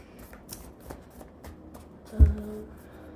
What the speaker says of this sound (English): This deck is smooth like butter. It's kind of hard to shuffle sometimes.